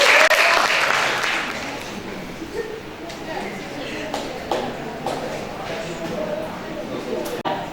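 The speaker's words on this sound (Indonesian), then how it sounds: "Beri tepuk tangan." Students clap in a classroom during a physics lesson on heat and temperature, a loud burst of applause that fades into scattered claps under ongoing voices.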